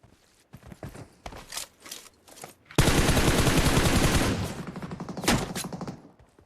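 Bursts of gunfire in PUBG Mobile: scattered short shots at first, then a loud, sustained stretch of rapid automatic fire, followed by a few more sharp shots near the end.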